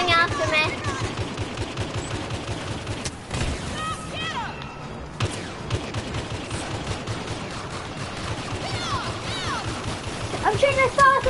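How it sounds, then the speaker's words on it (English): Rapid automatic gunfire from a Battlefront shooter game rattles on continuously at close range, dense and loud, with a brief lull midway and voices talking over the shooting. "I'm shooting as fast as I can."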